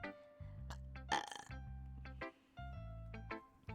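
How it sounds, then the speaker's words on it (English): A person playing through a visual-novel horror game lets out a single loud burp at about one second, standing out over steady game music that continues around it. "I burped."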